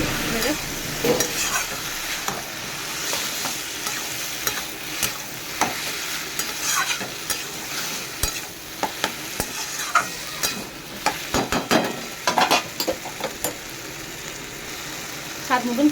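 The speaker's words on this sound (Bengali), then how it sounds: "আমি খোড়াটা দিয়ে দিলাম। খোড়াটাকে দিয়ে নেড়ে দেবো। কষে নেবো।" Banana stem, already boiled, stirred and sautéed in a frying pan for a Bengali prawn curry, giving a steady sizzle with irregular scraping and clacking strokes of the spoon throughout, close and moderately loud.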